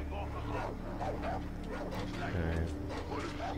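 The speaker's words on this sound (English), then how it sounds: "Dogs." Dogs barking and yipping in the video game Far Cry 3, mixed under steady talk and game sound, with short bursts close by.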